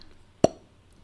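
A single sharp mouth-made pop, a voice imitating a champagne cork bursting from a bottle, brief and close against a quiet background.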